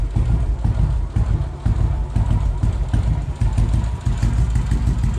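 Royal Enfield Classic 500 single-cylinder motorcycle with Hitchcocks performance parts idling low after a first start, a steady loud thumping beat close up, with no voices.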